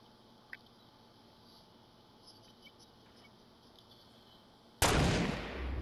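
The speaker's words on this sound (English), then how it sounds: "You're just spamming the fuck out of those rockets." Rocket fire in a video game: a low, quiet hum with faint ticks gives way near the end to one sudden, loud, roaring blast that carries on to the close.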